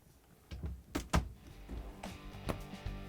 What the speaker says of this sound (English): And now we can close the doors.